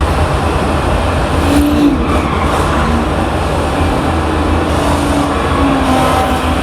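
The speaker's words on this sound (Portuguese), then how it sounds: "o Forza Horizon 5 rodando no Xbox, porque o som do motor do carro ficava muito mais imersivo" A car engine drones steadily in Forza Horizon 5 running on an Xbox, a continuous loud hum with a faint higher whine, no voices.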